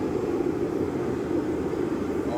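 Sunfire torpedo heater running, a loud, steady jet-engine-like roar with a dense low rumble that holds constant without breaks.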